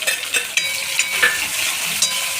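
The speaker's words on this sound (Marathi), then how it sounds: "हे सर्व मिश्रण भाजून घेतं तेलामध्ये" An onion and garlic mixture frying in hot oil gives a loud, bright, continuous sizzle with crackling pops and light stirring scrapes throughout. No voices are heard.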